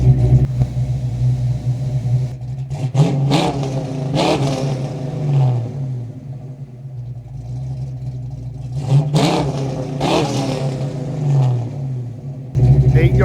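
A Fox Body Mustang with a FlowMaster 40 series exhaust revving from about two yards away, with two rising and falling throttle blips over a steady low idle rumble.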